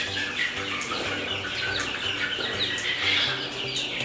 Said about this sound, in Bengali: এখানে এখানে রাখা হয়েছে দেশি মুরগি